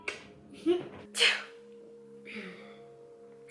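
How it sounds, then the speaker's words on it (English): A short, sharp sneeze bursts out amid quiet, soft vocal sounds, close to the listener, with a faint hum underneath. "When I have those little sneezes, I freak myself out."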